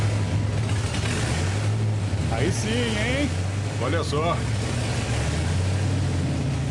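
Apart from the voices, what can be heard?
old diesel engine starting and running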